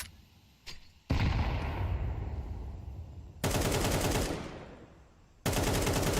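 Dense bursts of rapid gunfire from a Counter-Strike match ring out, loud and close, in long sustained volleys separated by brief gaps.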